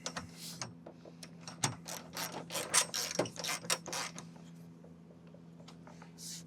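A bolt is tightened on a campervan roof rack, giving a quick series of close ratcheting clicks in uneven bursts over a low hum, then fading to quiet.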